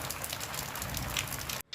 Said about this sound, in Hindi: सुबह से बारिश का दौर शुरू हो गया